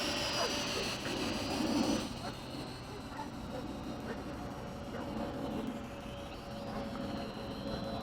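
An MJX X600 hexacopter camera drone in flight, a steady high-pitched whine of its motors that holds throughout at moderate distance, with a voice talking over it.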